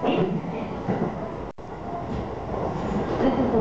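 A Saikyo Line local commuter train bound for Shinjuku runs steadily near Nishi-Oi and Shibuya, Tokyo, with a continuous rumble and rattle of carriages, loud and close, with a brief dropout in the middle.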